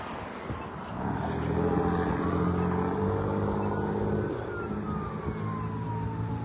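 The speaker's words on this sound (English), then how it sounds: "A siren started right when I stepped on the street." A siren wails in the distance over steady street traffic, its pitch slowly sweeping and falling, with passing cars rumbling nearby.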